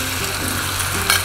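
Yakisoba noodles with green onion sizzle loudly in a mess tin at a campsite as a little water hits them, a dense continuous hiss with a brief sharper burst near the end, close and alone.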